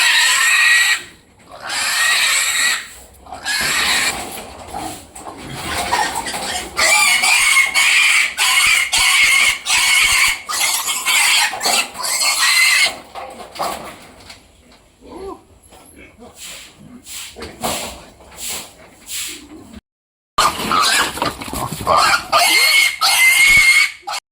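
Piglets being transferred from a nursery to a grower pen squeal loudly in repeated shrill bursts, almost continuously, with brief gaps and a few clucks nearby as people talk.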